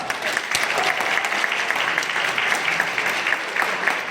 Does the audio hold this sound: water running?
no